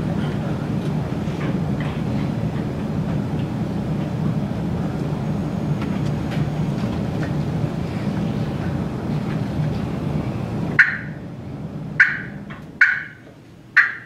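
Friction turkey call imitating an excited hen yelp: a burst of sharp, quick yelps near the end, loud and close, after a stretch of steady background noise and talking.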